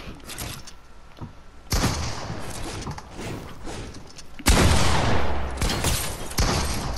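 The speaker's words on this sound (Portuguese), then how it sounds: "Eu te dei um tiro, né?" Bursts of gunfire in a video game during casual play, sharp rapid shots in clusters, close and loud, with clicks and mechanical creaks between volleys.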